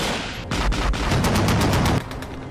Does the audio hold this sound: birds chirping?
no